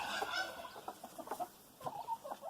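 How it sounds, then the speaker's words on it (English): A black Silkie rooster clucks softly in short bursts, several low calls spread over a few seconds, slightly distant and quiet. "There's my black rooster."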